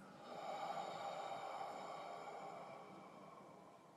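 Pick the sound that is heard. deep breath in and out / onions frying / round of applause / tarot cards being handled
deep breath in and out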